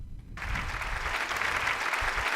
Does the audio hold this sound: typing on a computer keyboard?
no